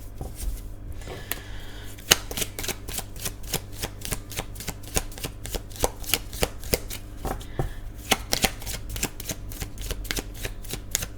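Tarot cards being shuffled for a love reading, a steady run of crisp riffling snaps and slaps close up, repeating in a regular rhythm with no talk.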